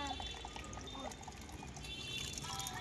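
Water is poured onto trees, a quiet splashing and trickling under faint background noise, with soft irregular drips and no clear voices.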